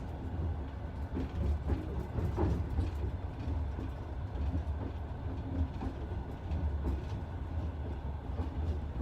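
Interior rumble of a moving passenger train in Siberia on the Novosibirsk to Baikal route, a steady low roar with faint rhythmic rail clatter throughout, no voices.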